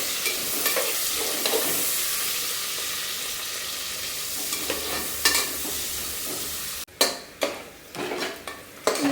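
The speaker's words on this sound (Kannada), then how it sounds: "ಈರುಳ್ಳಿ ಹಾಕ್ಕೊಂಡು ಚೆನ್ನಾಗಿ ಬ್ರೌನ್ ಕಲರ್ ಬರೋ ತನಕ" Onions frying in a pan until brown, a steady close sizzle with stirring scrapes, cutting out briefly near the end before sharper utensil clatters and renewed sizzling.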